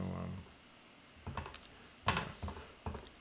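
Computer keyboard typing during a coworking session, a few soft scattered bursts of key clicks close by, following a brief moment of a voice at the start.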